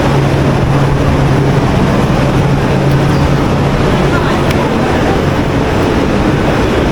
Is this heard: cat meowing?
no